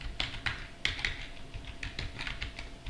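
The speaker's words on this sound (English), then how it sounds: "So just type curl hyphen progress bar" Fingers type a curl command on a computer keyboard, a quick, close run of light key clicks with brief pauses between bursts.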